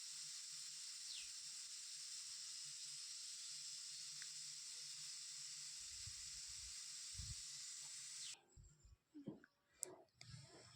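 A steady, loud hiss of steam rushes from a pressure cooker as its whistle weight is lifted off after two whistles, then cuts off abruptly and is followed by a few clanks and handling sounds.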